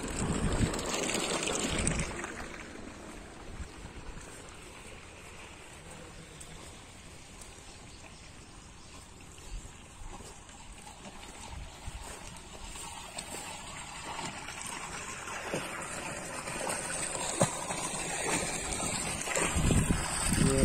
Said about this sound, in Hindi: ये चार इंच पाइप में चल रहा पानी